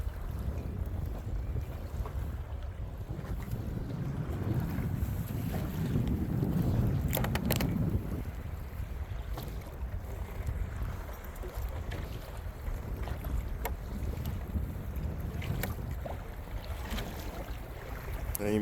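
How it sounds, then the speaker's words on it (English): Gusty wind buffets the microphone while waves slap around a Native Titan 10.5 kayak on Chesapeake Bay near Breezy Point, Maryland, a steady rumbling rush that swells midway then eases, with occasional sharp splashes. "All this is wind and waves."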